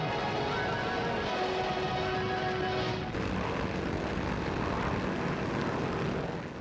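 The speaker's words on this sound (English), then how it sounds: "Colonel Fink and his Group No. 2 planes take off from Arras, aiming to make a raid on British land" German Luftwaffe propeller planes taking off from Arras for a raid on Britain, a steady droning engine roar that holds at an even level for several seconds, with a brief tonal shift midway.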